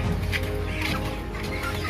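Chickens cluck and squawk in a busy jumble amid shuffling and handling noise as they are packed into crates, continuous and fairly loud throughout.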